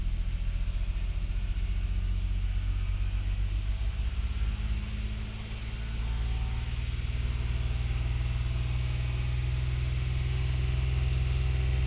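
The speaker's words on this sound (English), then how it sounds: "So I'm going to raise the RPM to 2500." A Lexus ES300 engine hums steadily at raised idle as it is brought up toward 2500 RPM, a close, even drone with a slight dip and recovery midway and no talking.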